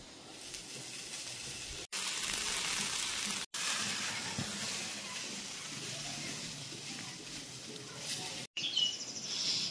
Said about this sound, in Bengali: এদিকে আলু পেঁয়াজ ভাজা ভাজা হয়ে গেছে, দিয়ে দিচ্ছি চাউমিন।